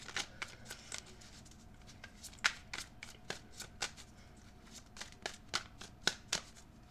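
Tarot cards are shuffled by hand, a run of crisp flicking riffles and soft slaps in an uneven rhythm, close and fairly quiet, with no one speaking.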